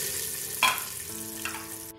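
Curry leaves and black peppercorns hit hot oil in a homemade tarka for whole moong dal, giving a steady close sizzle with a sharper crackling burst partway through and another smaller flare later.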